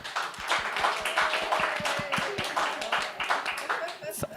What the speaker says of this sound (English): Clap if you prefer the Hater Raiders.